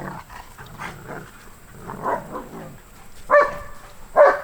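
A dog gives two sharp barks, close and loud, near the end, after a stretch of faint yips and muffled canine sounds.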